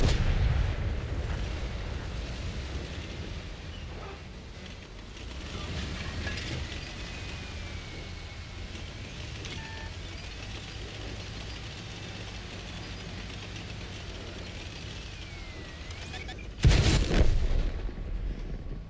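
World of Tanks tank gun firing, with a loud close cannon blast near the end above a constant roar of in-game battle noise and engine rumble. Nobody speaks.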